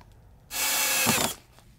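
A power drill runs in one steady burst of about three-quarters of a second while fastening squared timber on a window frame during roof insulation work, loud and close with a quiet room before and after.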